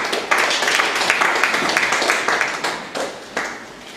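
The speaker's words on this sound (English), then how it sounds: "A round of applause for David" Audience at an oil industry conference applauding, a dense burst of clapping from many hands that holds steady for several seconds before thinning near the end.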